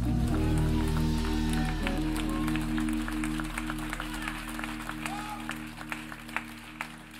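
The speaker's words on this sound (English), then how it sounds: "Clap your hands to the King" Members of a Sunday church service congregation clap for the King over sustained keyboard chords, the scattered clapping growing more distinct as the music fades.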